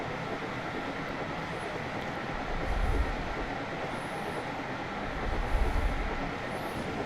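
Video-game steam locomotive modelled on Thomas the Tank Engine racing at high speed near St Erth, producing a continuous low rumbling drone with two heavier surges of rail noise, alone without talk.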